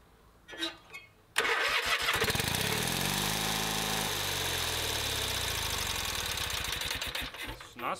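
An old Kohler 18HP engine on a Craftsman GT6000 mower, fed super old gas, cranks briefly then catches and roars into a loud, steady running drone that revs up and down, close by with no talk.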